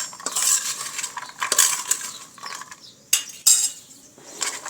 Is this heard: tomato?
yes